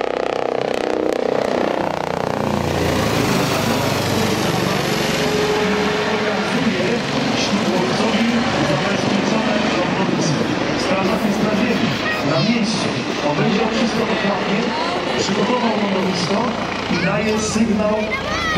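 A Eurocopter EC135P2i medical helicopter flying over Płock, its steady loud rotor and turbine drone continuing throughout as someone talks over it.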